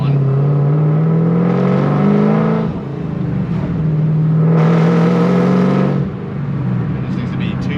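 A supercharged Camaro SS fitted with an Edelbrock supercharger kit revs loudly up close, its engine rising and falling through two long rev cycles with a steady whine.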